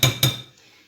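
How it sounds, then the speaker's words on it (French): Two sharp metallic clinks of a utensil against a dish while mixing cooled bell peppers and onions, close and bright, followed by quiet residual scraping. "On va mélanger donc les poivrons et les oignons."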